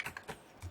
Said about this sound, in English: Let's take the keyboard out and see what else we've got under there.